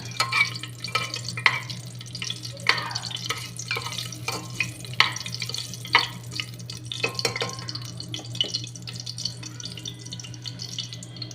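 Whole spices for tempering go into oil that is not yet fully hot, giving a soft, uneven crackle with scattered pops and stirring taps over a constant low hum.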